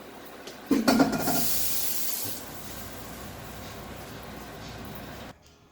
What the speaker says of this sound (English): This wok is nice and hot. Put in the sink. Wash right away.